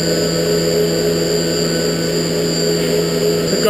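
A Haas Super Mini Mill 2 CNC spindle spins near 10,000 RPM, producing a loud, steady high whine with constant tones over a mechanical hum, unbroken throughout.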